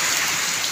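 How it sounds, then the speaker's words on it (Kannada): Strong wind with light rain outdoors in a village, a brief, even rush of broadband noise with no voices. "ಗಾಳಿ ಭಾಳ ಐತ್ರಿ, ಮಳೆ ಬರಲ್ಲ ಕಡಿಮೆ."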